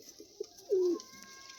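Pigeons of show-stand quality kept in a loft for sale give a single clear, close coo lasting a moment, set against quiet background with faint rustles and a soft earlier call.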